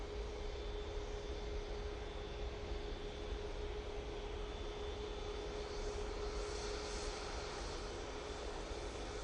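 A plane arrives at Manchester Airport, heard as a quiet, steady engine roar that stays even and distant throughout, with a faint tonal whine riding over the broad rumble.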